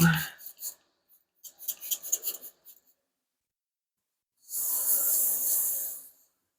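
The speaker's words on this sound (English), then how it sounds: "let's just wet sand that out" Wet sanding paint on a 1975 Hemi Plymouth Duster, with close, soft rasping strokes in a few short bursts followed by a steadier hiss of continuous rubbing; no talking.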